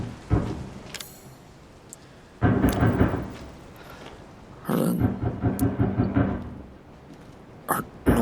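Thunder and rain in the Resident Evil 7 game, with several separate rolling bursts of rumble separated by quieter stretches of rain, some sharp cracks near the end.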